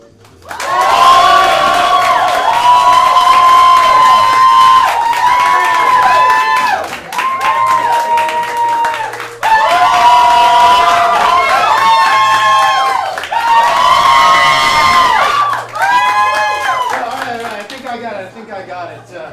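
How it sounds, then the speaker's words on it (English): An audience at a live improv comedy show in St. Pete loudly cheers, whoops and shouts for a contestant in two long surges, briefly dipping around the middle and fading toward the end. "whoever you want to win is the person you're going to applaud and cheer the loudest for"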